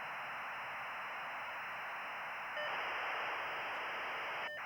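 Static-like broadband hiss from a slow dial-up modem downloading, steady and loud throughout with a slight rise near the end, with no talking.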